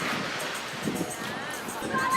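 Strong sea waves surging onto the beach at Cha-am, Thailand, on the Gulf of Thailand, heard as a steady, loud wash of surf mixed with buffeting wind noise on the microphone.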